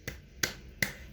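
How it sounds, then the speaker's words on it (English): Three sharp hand claps spaced evenly about 0.4 seconds apart, close and fairly quiet, during a children's action song, with no voices over them. "Can you clap your hands?"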